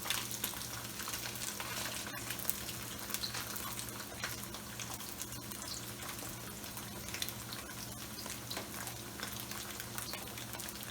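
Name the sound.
tofu deep frying in oil on high heat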